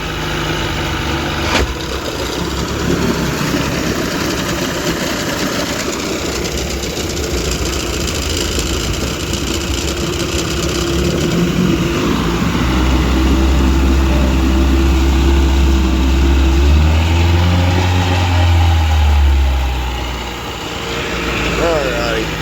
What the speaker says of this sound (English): I'm going to turn the propellers on.